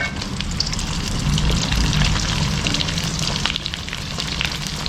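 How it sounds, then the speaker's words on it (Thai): Sea snakehead fish deep-frying in hot oil over medium heat, a dense, steady crackling sizzle that stays loud and close throughout, with no voices. "ใช้ไฟกลางนะฮะในการทอด เอาแค่ปลาพอมีความกรอบนะครับ"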